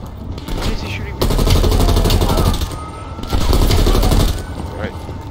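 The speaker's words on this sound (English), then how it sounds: "Why is he shooting me?" Automatic gunfire in the shooter Call of Duty Black Ops Cold War comes in two long, loud sustained bursts separated by a short lull, with background game noise throughout.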